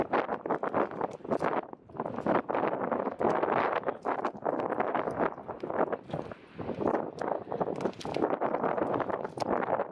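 Strong storm wind sweeps across the Lena River, gusting hard and buffeting the microphone in loud, uneven surges that barely let up across the whole stretch, with no voices present.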